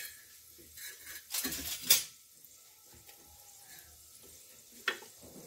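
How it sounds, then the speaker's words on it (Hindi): Star anise, cumin and black pepper stirred and dry-roasted in a pressure cooker on low flame: soft scraping and a few sharp metallic clinks of a spoon against the pot, otherwise quiet. "तो ये मैं इसमें डाल रही हूँ और इसे हम हल्का सा चला लेंगे और भून लेंगे इनको।"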